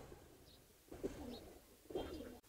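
A female racing pigeon coos in two low, throaty bursts about a second apart, close and fairly soft against a quiet background.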